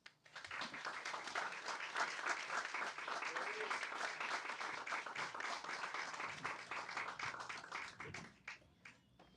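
Audience applause welcoming two speakers at a Politics and Prose book event in Washington, D.C.: a steady, dense wash of clapping from a roomful of people that holds for about eight seconds, then tapers off, with a little faint talk underneath.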